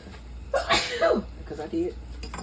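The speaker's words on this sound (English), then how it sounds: "I feel like I need to sneeze." A single sharp human sneeze in a home kitchen, close and loud, with a short breathy lead-in and a brief vocal tail afterward.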